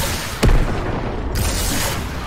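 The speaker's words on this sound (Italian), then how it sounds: "È il lanciarazzi a 4 colpi" Fortnite's four-shot rocket launcher fires, a loud boom near the start followed by a lingering rumble and a softer second blast around the middle, with no voices.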